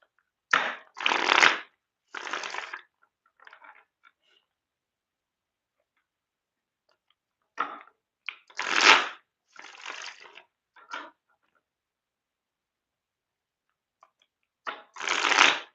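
Playing cards shuffled by hand for a card reading, in several separate riffling bursts of a second or so each, close and crisp, with long quiet pauses between them.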